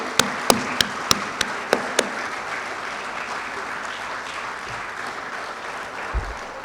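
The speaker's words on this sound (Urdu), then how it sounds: "ان سب کے لیے میری طرف سے زوردار تالیاں بجائیں" An audience gives loud applause for partner aid organisations, opening with several sharp, distinct claps before settling into a sustained, even roar of hands that slowly eases off.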